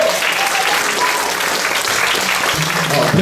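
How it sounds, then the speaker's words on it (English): A church congregation claps hands together during a service, steady dense clapping throughout with voices audible underneath. "come on, clap your hands"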